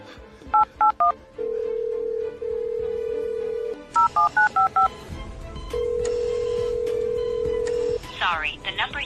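A telephone number is punched in with quick bursts of DTMF keypad tones, broken by long steady dial-tone stretches, followed by more key tones and a rising-falling electronic call signal near the end.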